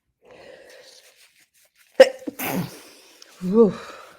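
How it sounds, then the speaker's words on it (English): After a soft breathy lead-in, one sharp, loud sneeze bursts out, followed by a brief exhale and a short vocal sound. "I always sneeze because that is a release"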